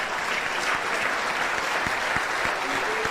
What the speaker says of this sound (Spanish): Si quiere darle un aplauso a Dios por la vida del pastor Manolo Sierra, désela también muy fuerte